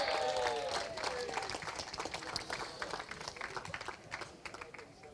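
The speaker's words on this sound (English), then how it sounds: "Big round of applause, please, for Minimax driver 37" Audience applause at a karting awards ceremony during the Kartmasters Grand Prix weekend, a steady patter of clapping from a modest crowd that fades gradually, heard alone at moderate distance.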